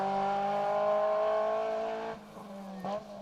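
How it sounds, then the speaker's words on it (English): A Honda Civic rally car on an asphalt stage rally passes at speed, a steady harmonic engine note that holds, then drops away as it moves off, followed by a brief rising rev in the distance. "Rory McCann and Paul McCann in the Civic going past."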